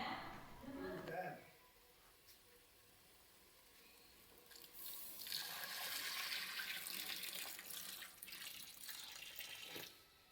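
Tamarind water pours into a pot, a steady splashing stream lasting several seconds, with a brief voice near the start.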